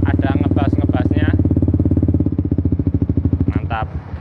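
Yamaha Vixion motorcycle fitted with a racing exhaust, idling close by with a steady, deep, bassy pulsing thump, briefly blipped near the end while a person talks over it.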